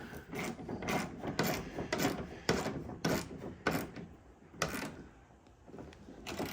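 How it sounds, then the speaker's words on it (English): A 1/4 inch drive hand ratchet tightens the nuts on a plastic door handle of a 1999-or-later Ford Super Duty truck, making a run of regular close clicking strokes with short pauses and no speech. "Just sucking it into place with a hand ratchet"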